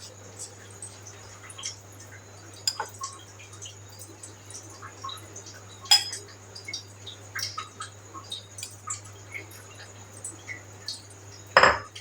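Meat being stirred with oil in a pot for kachay gosht biryani, heard as scattered clinks and scrapes of a utensil against the metal pot, sparse and fairly quiet over a low steady hum.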